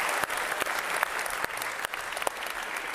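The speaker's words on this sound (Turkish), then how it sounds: "Ben sizi alkışlıyorum arkadaşlar." Sustained applause from a crowd, dense and steady clapping filling the whole stretch with a few louder individual claps standing out.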